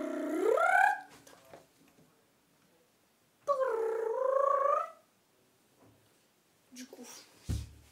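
A human voice imitates an old mechanical crane with two long, drawn-out creaking, wavering vocal glides separated by quiet, followed by a few brief scrapes and knocks.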